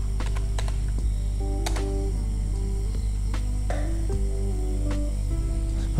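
Keys on a computer keyboard tapped in quick irregular bursts while text is retyped in an Excel spreadsheet, clicks sitting over a steady low hum and backing music.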